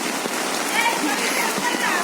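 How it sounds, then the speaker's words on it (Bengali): Heavy rain from a Nor'wester storm pours down in a dense, continuous hiss, with scattered drops and splashes and faint voices underneath. "এই দেখতে পাচ্ছেন কি পরিমাণে বৃষ্টি হচ্ছে চারিদিকে"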